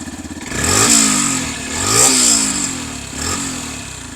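A 2025 Yamaha FZS Hybrid motorcycle engine revs up three times nearby, its exhaust rising to a raspy roar and then falling back to a rumbling idle.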